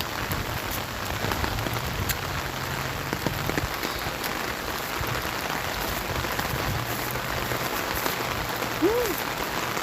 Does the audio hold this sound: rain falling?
yes